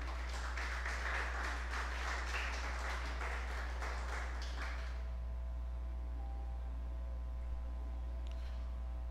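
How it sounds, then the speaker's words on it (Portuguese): A Portuguese-speaking church congregation applauds the Lord during a sermon, with brief, moderately loud clapping that fades out after a few seconds, leaving a low steady hum. "Você pode aplaudir ao Senhor?"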